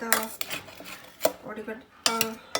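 Cooked dal being mashed in a pot with a large ladle, a few close metallic clinks and scrapes against the pot sides in a short uneven rhythm.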